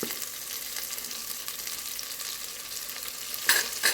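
Mint leaves and green chilies sautéing in a pan, a continuous close sizzle with a couple of sharper stirring scrapes near the end.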